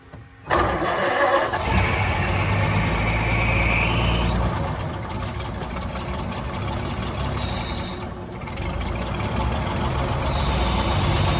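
Engine of a 1927 Chrysler sedan cranks and catches right away, then runs loud and steady close by, with a shift in tone partway through.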